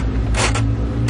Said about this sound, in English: That's a doorbell.